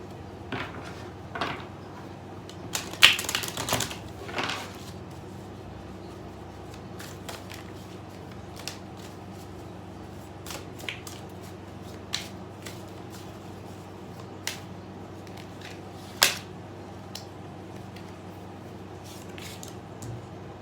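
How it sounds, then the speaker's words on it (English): Tarot cards shuffled by hand during a reading, giving soft papery riffles and scattered sharp flicks and taps over a quiet room, with a denser burst of shuffling near the start. "I'm gonna shuffle a little more while I'm on camera"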